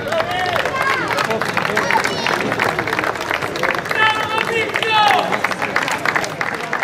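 Applause from a crowd at the prize-giving of a car slalom at Gambarie, steady clapping under an announcer's voice and background chatter, with whistles rising now and then.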